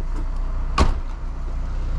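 1994 Daewoo Espero trunk released open, a single close, solid latch clunk over a low, steady rumble from the car.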